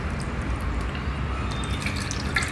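Soaked tamarind squeezed by hand in water for its juice gives a close, wet sloshing and dripping, soft and continuous over a short stretch, with no talk.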